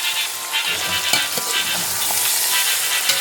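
Paella ingredients sizzle hard in a pan over high heat while a utensil stirs them, making steady frying hiss with scattered soft scrapes and clicks, close up and without speech.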